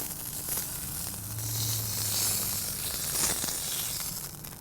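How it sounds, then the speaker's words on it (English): The fat edges of a bone-in ribeye steak sear on a hot grill, giving a steady, close hiss and sizzle that rises and falls slightly over a few seconds. "Now we're going to go ahead and get these edges. Just give it a quick sear on that fat."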